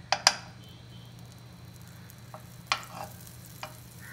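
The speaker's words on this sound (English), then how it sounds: "Heat a pot and add some butter." Butter melts in a hot pot with a faint, low sizzle beneath a few sharp metallic taps and scrapes of utensils against the pot, close by and with no voices.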